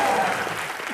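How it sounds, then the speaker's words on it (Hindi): Loud, dense studio audience applause fills the whole second on a comedy show set, steady clapping with a faint crowd murmur beneath. "जोरदार तालियां इन दोनों के सबसे बड़े फैन लच्छा के लिए।"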